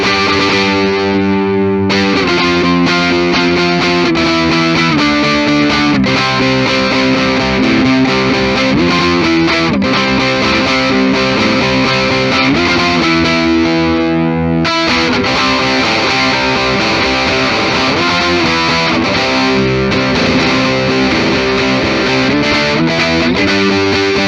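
A heavily distorted vintage 1985 Gibson Explorer played on its neck pickup, loud and sustained throughout, with riffs and ringing chords and only brief breaks between phrases.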